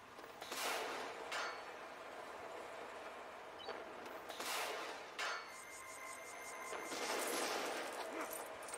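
Gunfire from shooting in the Lego Batman 2: DC Super Heroes video game aboard a train, several loud bursts of shots spaced apart over a rumbling game soundtrack.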